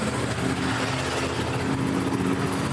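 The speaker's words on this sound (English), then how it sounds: "I hope you can pick up some of that exhaust note." A 2024 Royal Enfield Bullet 350 gives a steady, rumbling exhaust note, running evenly at a constant pace without any talking.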